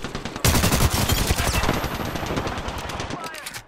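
Rapid automatic gunfire in the Apex Legends battle royale game, dense bursts starting abruptly and continuing loud and close throughout, with a faint voice underneath.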